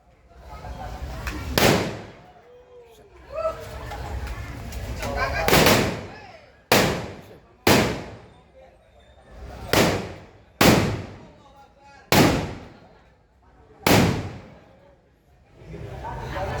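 Firecrackers bang one after another at irregular intervals, about ten sharp loud cracks with faint voices and background noise between them.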